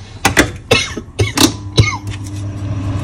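Coughing set off by dried red chili fumes while making Thalassery biriyani masala: a string of sharp, close coughs in uneven bursts, heard alone.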